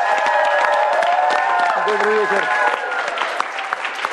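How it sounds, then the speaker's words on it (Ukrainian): A studio audience at a Ukrainian TV talk show applauds loudly and steadily. Someone briefly speaks a greeting over the clapping. "Ваш аплодисмент."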